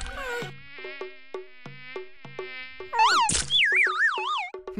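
Cartoon mosquito wings buzz in an anime as a high, wavering whine that rises and falls, with short plucked tones before the buzz swells louder.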